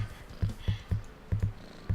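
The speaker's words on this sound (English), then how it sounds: "I love that it purrs" A cat purring in a video game, a soft rumbling purr pulsing in a steady rhythm of repeated breaths, close and fairly quiet, with no talking over it.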